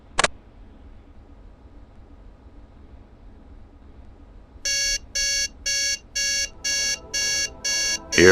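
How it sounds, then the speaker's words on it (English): A spaceship cabin alarm clock sets off eight evenly spaced electronic beeps after a quiet stretch, loud and close, with one short click at the start. "Computer, set alarm for 5 minutes from now."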